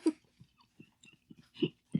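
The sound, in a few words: chewing boba pearls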